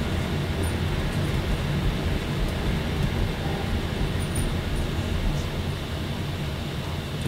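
Steady rumbling train pass in Roblox Theme Park Tycoon 2, a continuous broadband roar with no break and no talking.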